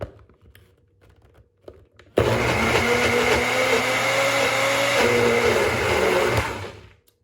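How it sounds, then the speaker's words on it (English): A NutriBullet blender starts abruptly after a few quiet handling clicks and runs steadily for about five seconds mashing cauliflower, a loud whirring motor with a slight pitch dip partway, then winds down. "I found that using this NutriBullet brings it right home"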